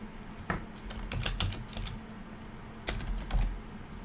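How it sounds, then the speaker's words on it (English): Quiet clicking of keys on a computer keyboard as a short word is typed, two quick clusters of taps separated by a pause. "So we're just going to type carbon in here."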